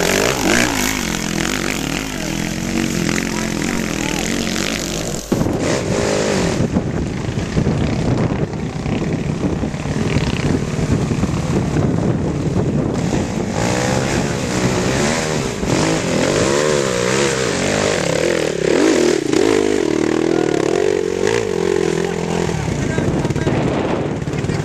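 A Husaberg motorcycle engine in the bush at Kowen, a loud continuous rasping drone that rises and falls as it rides past close by, with voices talking over it.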